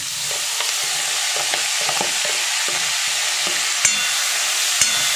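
Fenugreek leaves sauté in hot oil for matar malai methi, making a constant bright sizzle with soft, irregular stirring scrapes and a couple of sharper clicks of the spoon against the pan.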